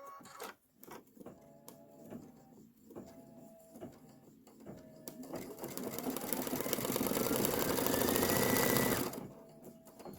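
An embroidery machine stitches in white thread for a Kimberbell Main Street Celebration design, starting with scattered ticks and short whirs, then building into a sustained loud whirring run before stopping abruptly.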